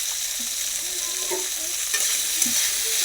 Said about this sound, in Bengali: এবার আমরা ভাজছি বিনস, একইভাবে ভেজে নেব